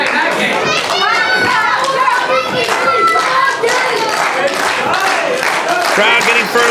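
An indie wrestling crowd at a Green Mountain Wrestling show claps and cheers for a wrestler, a loud, continuous mix of clapping hands and excited voices, including children's.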